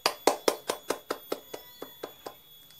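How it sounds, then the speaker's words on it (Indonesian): Pupils clap in unison in a primary-school classroom, about a dozen evenly spaced claps in a steady rhythm. The claps start loud and close and grow gradually fainter toward the end, with no talking. "Beri tepuk tangan buat kelompok 2"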